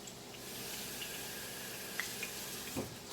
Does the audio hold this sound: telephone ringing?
no